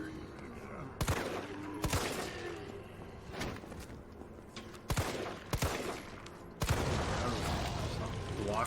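Gunfire in Resident Evil 3 during the Raccoon City demo: a series of sharp, loud shots spaced irregularly, some in quick pairs, over low game ambience.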